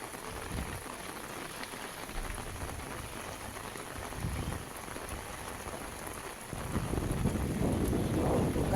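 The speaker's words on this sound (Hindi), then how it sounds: "जिस तरीके से लगातार बारिश हो रही है।" Heavy, continuous rain in Bijnor, Amroha and Sitapur, a steady dense hiss of drops on surfaces with some wind noise, growing louder and fuller near the end.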